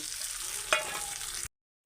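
Hot oil sizzles steadily as raw mango roti chutney fries in a tempering, with a brief clink of a utensil midway before the sound cuts off abruptly.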